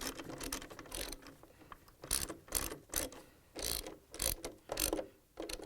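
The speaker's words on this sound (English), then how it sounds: "So I'm going to use the 10 millimeter socket wrench." A 10 millimeter socket wrench tightens stator bolts on a Samsung washer, giving quick bursts of ratcheting clicks in several separate runs with short pauses between them, close and clear.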